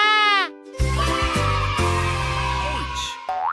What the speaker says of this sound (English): The goat says, "Ma!"